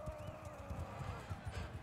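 A horse in Mount & Blade II: Bannerlord clip-clops with steady, close hoofbeats, and a voice sounds faintly underneath.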